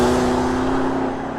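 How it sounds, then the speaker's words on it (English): A Lamborghini Urus with an Akrapovic exhaust holds a loud, steady engine drone close by, a deep even tone with no pauses and no talk. "So the Urus is a special car, and it makes a special noise"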